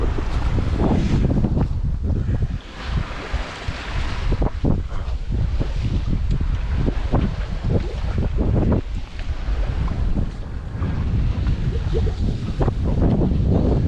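Steady wind roars and buffets the microphone on a sailboat at sea off the Azores during Hurricane Gabriel, with water rushing and slapping along the hull throughout.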